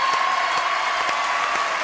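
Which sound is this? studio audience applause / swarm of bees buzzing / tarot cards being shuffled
studio audience applause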